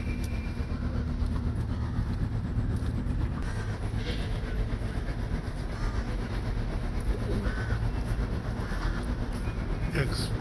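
A Kolkata Metro Green Line train running through the tunnel beneath the Ganga river toward Howrah, with a steady, loud, close rumble and rhythmic clickety-clack of wheels on rails throughout, and no talking.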